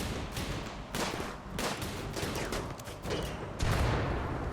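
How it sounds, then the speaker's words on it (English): Frag grenades blasting against walls in RimWorld, a dense run of sharp, booming explosions that overlap into a near-continuous barrage, loud and close throughout. "stop throwing frag grenades at my walls!"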